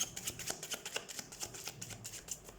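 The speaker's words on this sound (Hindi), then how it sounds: "तो सबसे पहले हम कार्ड शफल कर लेते हैं टॉरस।" Tarot cards shuffled by hand in quick, repeated riffling bursts, close and fairly soft, with no talking over them.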